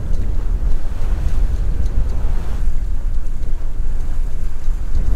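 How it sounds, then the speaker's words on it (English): Strong wind and ocean swell at an anchorage near Bimini, heard from a sailboat: a loud, steady roar of wind buffeting the microphone over the continuous wash of water, with no voices. "So the wind is coming from the island, yet the swell is coming from the other side."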